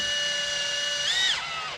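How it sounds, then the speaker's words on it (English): A power drill whines at a steady high pitch, then bogs down and winds off as the bit bites, close and fairly loud. "Just let the drill do the work."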